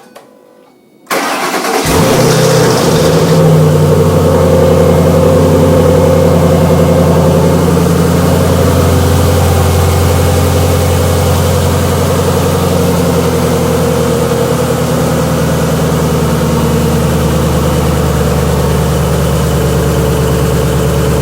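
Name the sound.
2005 Ford Mustang engine started and idling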